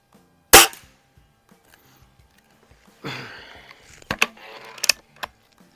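Air rifle shots from a Diana model 45 and a Benjamin Steel Eagle, one sharp loud crack early, then after a pause a rustling mechanical stretch with a few quicker snaps and clicks, no talking.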